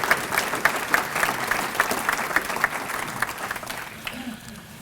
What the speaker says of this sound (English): So give them a round of applause because they put a lot of time and effort in